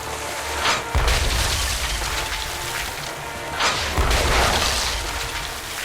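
Cannon fire in the game Tales of Monkey Island, with two deep booming blasts about three seconds apart, each followed by a noisy rumbling tail that keeps the sound loud throughout.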